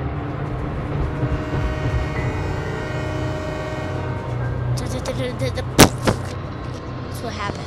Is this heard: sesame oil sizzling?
no